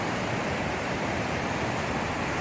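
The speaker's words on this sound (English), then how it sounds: "there's a little waterfall on the other side of the street" Steady rushing water from a small waterfall in Smoky Mountains State Park, a constant broadband hiss close by with no voices.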